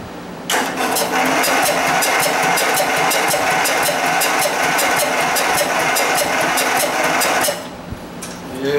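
Ariens Emperor V-twin engine on a riding mower, choke closed, cranks and catches, then runs at a loud, steady idle for about seven seconds before cutting out, with no talking over it.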